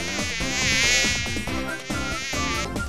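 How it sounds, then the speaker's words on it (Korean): A mosquito buzzes with a loud, continuous, wavering whine, set among insects of the forest and heard over busy backing music throughout. "모기"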